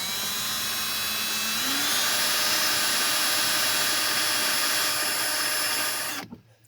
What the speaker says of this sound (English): Then I'm going to take and drill these pinholes